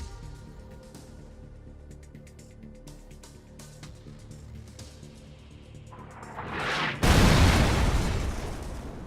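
Bombing in the PUBG video game destroys buildings inside a red zone: quieter game ambience gives way to one loud, close explosive blast with a long rumbling roar near the end.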